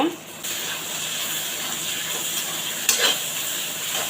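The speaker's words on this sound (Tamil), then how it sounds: "வெங்காயம் நல்லா வதங்கிச்சுங்க தக்காளி சேர்த்துக்கலாங்க" Onions sautéing in a pan for mint chicken fry, with tomatoes tipped in: a steady close sizzle throughout, a brief soft bump near the start and a sharper clatter of stirring just before the three-second mark.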